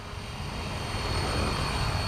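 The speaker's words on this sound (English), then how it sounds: "let the helicopter fully spool up" An RC helicopter spools up, its rotor and motor making a steady, loud whirring drone that holds evenly throughout.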